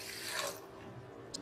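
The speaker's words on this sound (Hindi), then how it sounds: "1 कप चीनी के साथ हम इसमें 1 कप ही पानी डाल देंगे" Water poured from a cup into about 220 grams of sugar in a pan for single-thread syrup for Rajasthani ghevar, a steady close splashing stream that thins and fades toward the end.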